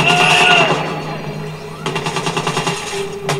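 Rapid automatic gunfire in a shooter video game, loud bursts of close shots with a fast rattling rhythm over layered game sounds, no voices.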